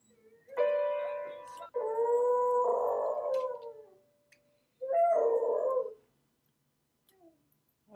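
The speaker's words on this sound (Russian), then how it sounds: "это была собака" A dog lets out three drawn-out, wavering howls, clear and close in an otherwise quiet room, with short silent gaps between them and a faint trailing sound at the end.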